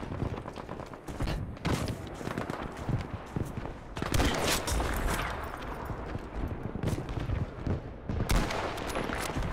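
Kar98 sniper rifle fire in the video game Battlefield 5, with dense, loud bursts of gunshots and booming impacts cracking out repeatedly over a constant battlefield din, with heavy blasts near 4 and 8 seconds.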